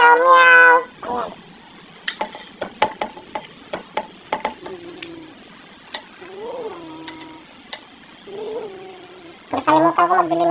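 Cats meow at dinner time in a home kitchen, several distinct meows at the start and end with soft clinks and scattered taps between them, close and fairly clear, with brief quiet talk.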